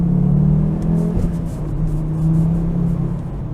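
Volvo S60R turbo sedan accelerating hard through the gears, a loud close engine drone with steady low rumble and rising pitch, brief dips as it shifts, no talk.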